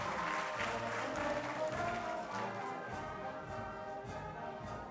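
An audience at a live-streamed charity book auction breaks into applause, a dense wash of clapping that starts loud and tapers slightly while staying continuous over several seconds.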